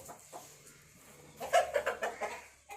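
Soft chicken clucking, a few short bursts growing busier toward the end, fairly close over a quiet background.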